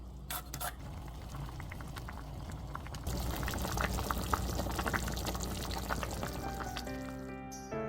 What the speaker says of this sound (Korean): 바글바글 끓어오르면 참치캔을 국물까지 다 넣어요.